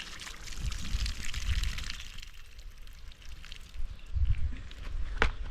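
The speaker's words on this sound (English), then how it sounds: "Then I'm going to add more water." Water poured into a cooking pot in a rural African village kitchen, a steady splashing rush that fades midway and then returns with low thuds and sloshing, fairly close with no talking.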